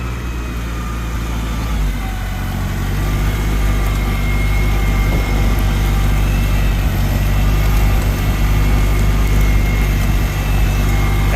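A Farmall Super C tractor engine chugs steadily at close range during a plow day, a deep low rumble with a constant thrum that grows a little louder after the first couple of seconds.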